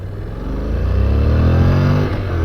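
A Honda NC750X motorcycle engine revs up close, a loud rising roar that holds steady and dips briefly near the end before climbing again.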